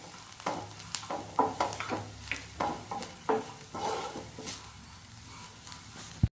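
Jackfruit seeds frying in a pan with red chili powder, stirred with a spoon: irregular scraping strokes over a continuous soft sizzle, close and fairly loud.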